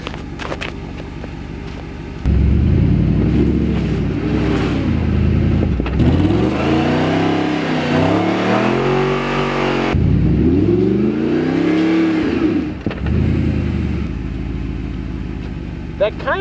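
An Audi R8 stuck in an icy ditch revs hard in repeated loud bursts, engine pitch rising and falling as the wheels spin without traction, with brief drops between pulls.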